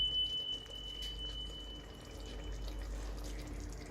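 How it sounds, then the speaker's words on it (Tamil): Water poured from a cup into a pressure cooker pot of chicken biryani with basmati rice, a faint steady splashing and trickling over low kitchen background noise, no talking. "நான் 2 அளவுக்கு பாஸ்மதி அரிசி எடுத்திருக்கனால 4 கப்பு தண்ணி ஆட் பண்ண போறேன்."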